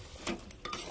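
Onion and spice paste for mutton kurma frying and being stirred in a pan, soft sizzling with a couple of scraping and clinking spoon strokes against the metal, close and brief.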